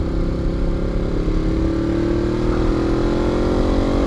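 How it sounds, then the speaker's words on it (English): A 2014 Ducati Monster 821 motorcycle running through its stock exhaust, a steady close engine drone with a slowly rising pitch as it pulls along, loud and continuous with wind rush and no talking. "That stock exhaust, man. I'm not wearing earplugs. It sounds so good."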